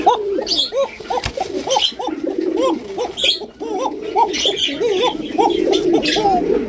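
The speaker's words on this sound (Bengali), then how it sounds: "এটা হচ্ছে ম্যাক্সি কালারের রেসার কবুতর" Racer pigeons coo repeatedly up close at a pigeon farm, a rhythmic series of soft rolling calls, with a few sharp clicks and rustles in the background.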